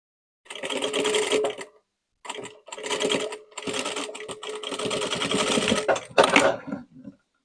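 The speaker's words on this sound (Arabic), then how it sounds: "ونخيط هيك بشكل ننهيه قبل خياطة الكتف" A sewing machine stitching a dress sleeve runs in several bursts of steady, close mechanical whirring and rapid needle clatter, separated by brief pauses.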